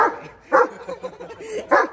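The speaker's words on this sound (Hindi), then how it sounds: "पहली बार देख रहा हूँ कि जर्मन शेपर्ड इतना भौंक रहा है" A German Shepherd barks loudly and close by in three sharp bursts, with quieter yelps and whines between them.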